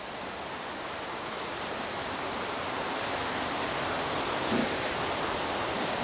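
Rain falling steadily outdoors, a dense even hiss with no distinct drops, continuous and fairly loud with no voices.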